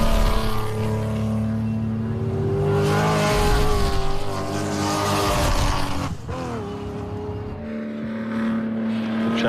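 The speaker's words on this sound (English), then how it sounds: "a lovely sort of waffle from the exhaust of that car" A turbo diesel race car's exhaust burbles and drones steadily at Castle Combe circuit during a classic sports car race, a low rumbling engine note with shifting pitch as it passes.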